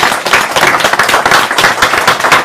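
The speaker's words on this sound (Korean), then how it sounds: "힘찬 응원의 박수 부탁드리겠습니다." Loud, dense applause from the crowd at a bare-knuckle fight event in Korea, steady continuous clapping filling the hall before a fighter's entrance.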